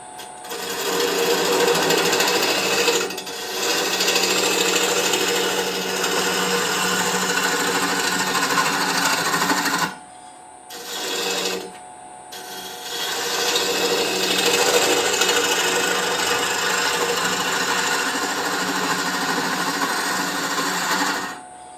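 A Grizzly G0838 wood lathe spins a wooden workpiece while a square carbide tool scrapes it in a steady, rough, continuous whir, with two brief pauses near the middle.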